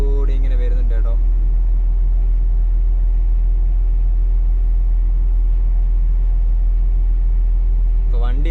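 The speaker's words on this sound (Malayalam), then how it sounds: "നമ്മുടെ ലോറി ഇതാ ഇങ്ങോട്ട് വന്നുകൊണ്ടിരിക്കുന്നുണ്ട്" A lorry rolls in along a roadside work site to be loaded, a loud steady low engine rumble dominating throughout, with brief talk at the start and end.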